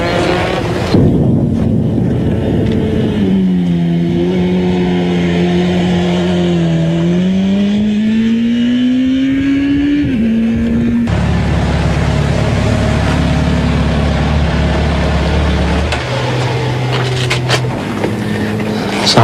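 A motorcycle being ridden, its engine droning steadily and close with the pitch climbing, dipping and shifting through gears, while heavy wind buffets the microphone throughout, with no talking.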